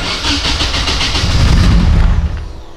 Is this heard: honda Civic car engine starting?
yes